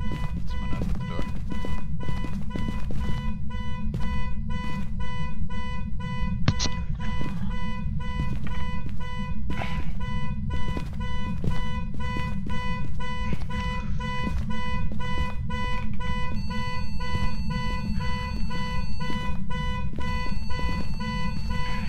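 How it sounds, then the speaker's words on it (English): In the video game Phasmophobia, a car alarm blares continuously in a steady, repeating tonal pattern, loud and sustained throughout with faint scattered clicks underneath. "That's a fucking car alarm."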